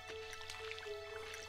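Water splashes softly as a watering can waters crops in Stardew Valley, a brief gentle trickle and drip over a faint steady tone.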